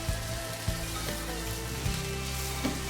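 Onion and garlic frying in a pan, a loud continuous sizzle with small pops and soft taps of a stirring utensil, with no voices.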